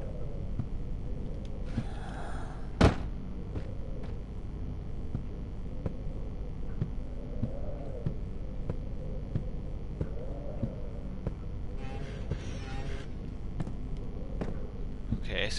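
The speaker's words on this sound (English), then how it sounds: "I can hear a heartbeat." Low, steady throbbing heartbeat in the horror video game Amnesia, a soft repeating pulse under ambient hum, with a sharp bang early on and brief noises.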